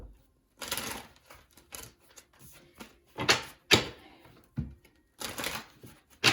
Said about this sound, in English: Let me shuffle because too many cards flew out.